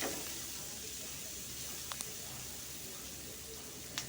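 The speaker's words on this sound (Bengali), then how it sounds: "পেঁয়াজগুলোকে একটু হালকা ভাজবেন" Onions sizzle lightly in a pan as a soft, steady frying hiss, with a few faint clicks of a utensil against the pan.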